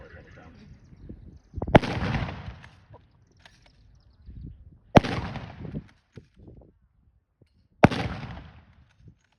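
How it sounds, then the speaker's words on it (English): Three loud WWII-era rifle shots fired at a living-history weapon demonstration at Fort Clinch, spaced about three seconds apart, each a sharp crack followed by a brief echoing rumble, with faint voices between them. "go ahead and fire when you're ready"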